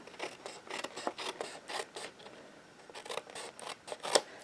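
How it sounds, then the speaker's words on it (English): Scissors snip away excess paper while a handmade greeting card is trimmed, giving a quick run of close, soft crisp cuts and rustles, with a slightly louder snip near the end and no voices. "I'm gonna be cutting whatever is excess"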